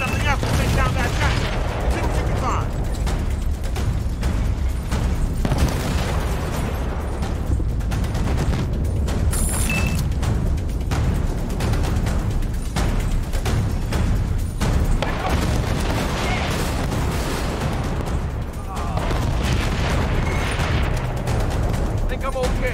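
Enemy gunfire and explosions from a barn in Battlefield: Bad Company fill the scene, dense rattling shots and booming blasts layered under shouted voices.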